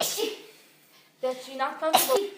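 A sneeze bursts out partway through, a short sharp broadband burst around the two-second mark, with people talking just before and over it.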